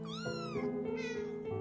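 A cat yowls loudly and plaintively during an ultrasound exam at a vet clinic, two drawn-out close meows in quick succession with rising and falling pitch.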